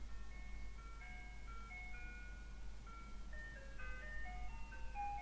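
A faint, tinny ice cream truck jingle plays a simple repeating melody over a steady low hum, with no one talking.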